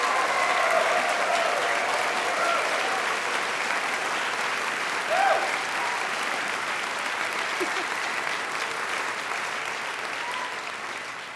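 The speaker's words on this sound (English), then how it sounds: "let's have one last round of applause for all 10 quartets." Sustained audience applause at a string quartet competition award ceremony, a broad, even wash of many hands clapping in a hall, continuing steadily and tapering slightly near the end.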